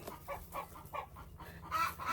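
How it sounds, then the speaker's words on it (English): Chickens cluck on a homestead near a sheep corral, a run of short, fairly soft clucks in uneven rhythm at moderate distance, with faint steady background hum. "Chickens make a lot of noise and they get on my damn nerves."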